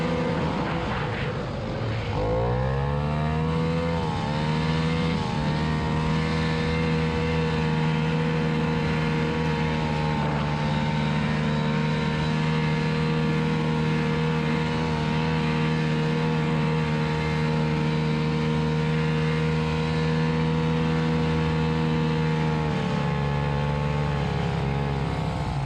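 Snowmobiles, including a powerful white Yamaha and Elans, race in a 40-mile Elan run, their engines droning loudly and steadily with rising and falling pitch as throttle changes, close by and with no talking.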